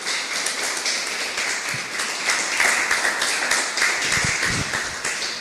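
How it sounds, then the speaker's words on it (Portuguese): Church congregation clapping hands together in worship, a dense, steady wash of many palms filling the room at moderate loudness throughout. "Palmas bem alegres para Jesus."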